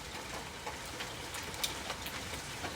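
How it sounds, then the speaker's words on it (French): Centimetre-sized hailstones fall and bounce during a strong thunderstorm in Ille-et-Vilaine, France, making a steady patter of small sharp ticks and taps over a soft background hiss, with no voices. "il y a de la grêle, en tout cas il y a des grêlons"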